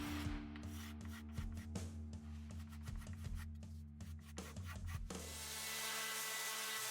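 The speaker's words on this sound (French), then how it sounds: "je viens avec un grattoir pour vraiment affiner" A hand scraper refines a chamfer on an Ibanez guitar body with short, repeated rasping strokes in a steady rhythm. The work sounds close, with a steady hum behind it and a brighter hiss over the final seconds.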